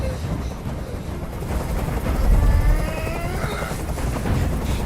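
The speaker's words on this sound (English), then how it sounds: "I can't stand that noise anymore. Tell that helicopter to get out of here." Helicopter noise in the video game Detroit: Become Human, a loud, steady low rumble with rhythmic chopping that holds throughout and swells slightly midway, with no talk over it.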